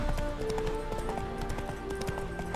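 A horse's hooves clip-clop at a steady trot in The Witcher 3 video game, an even rhythm of close hoof strikes over a background of music.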